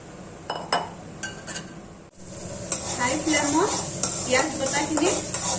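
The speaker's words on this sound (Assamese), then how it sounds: "ৰংচোৱাকৈ ভাজি ল'লোঁ।" Paneer sizzles as it fries in a pan while a utensil clinks and scrapes as it is stirred, loud and close.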